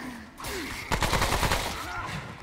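Gunfire in the video game Remnant: From the Ashes during a boss fight, a rapid burst of loud automatic shots lasting under a second, layered over dense game sound effects.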